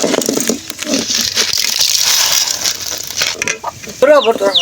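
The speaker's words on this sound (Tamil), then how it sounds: "உளுந்த போட்டு நல்லா பொரிச்சு எடுத்துக்குவோம். கடலைப்பருப்பையும் போட்டு கொட்டிக்கலாம்." Urad dal and chana dal fry in oil with a steady hissing sizzle, broken by scraping and stirring noises as the lentils are moved, with a brief voice near the end.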